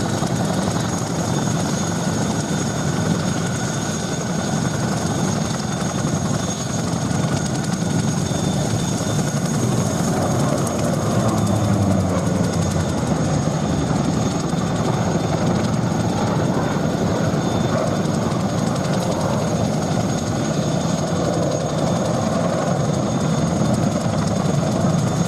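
Hawker Sea Fury Mark 10 naval fighter at the Duxford air festival, a steady loud propeller engine drone that holds constant throughout with broad rushing noise and no talk.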